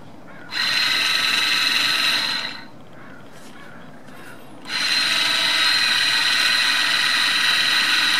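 Small 12V battery-powered electric motor in a Toyota/Lexus brake caliper whirs with a high, steady whine, runs for about two seconds, pauses, then starts again and keeps running close and loud.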